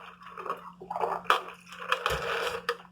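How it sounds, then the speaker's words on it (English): Close, moist chewing of a snack with soft crunches and squishes, repeated bites and mastication up close, alone without talk. "It's probably, like, annoying to hear somebody else chewing."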